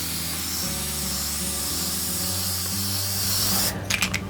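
Spray paint goes on in another coat over a picture-frame mirror, a continuous close hiss for several seconds that ends in a few short sputtering bursts.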